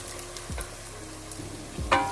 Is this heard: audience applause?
no